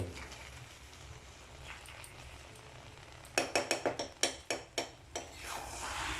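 Carrot halwa cooked with ghee is stirred in a pan, a spoon scraping and clinking against the metal in a quick series of about ten strokes after a quieter, soft sizzling stretch.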